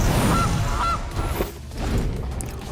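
A cartoonish goose honk plays from the Gilded Goose card in the digital card game MTG Arena, two short honks up close, then fading into soft game chimes and background music.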